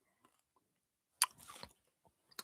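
One sharp, close crunch of biting into something brittle, followed by a short run of chewing noises and then a few faint clicks. Otherwise the surroundings are quiet.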